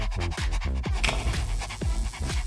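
A dog pants rapidly and close up, a run of quick rhythmic breathy huffs repeating steadily throughout with no talking.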